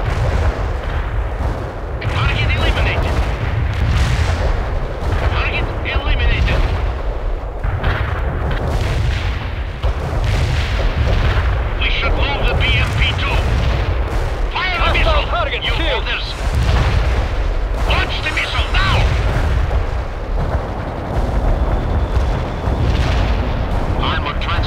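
Heavy mortar and artillery fire-support barrage in the World in Conflict video game: dense, continuous booms and blasts rumble through the whole stretch, with bursts of gunfire and voices talking over the battle.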